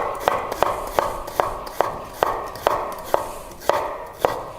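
An onion is chopped with a knife on a board in a steady, even rhythm of about ten crisp, close strikes, each sharp tap standing out clearly with no talking.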